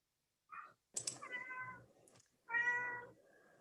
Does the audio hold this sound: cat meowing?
yes